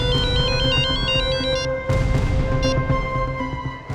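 A loud electronic phone ringtone plays a repeating melodic pattern, close and clear, with no voices.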